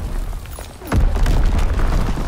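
Artillery strike explosion in Call of Duty: WWII multiplayer, a heavy boom landing about a second in, followed by a loud lingering rumble of debris and ongoing battle noise.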